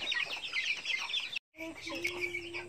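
Native chickens raised by kids in Tacloban cluck busily while being fed, a close, continuous chatter of the flock broken by a brief silence midway.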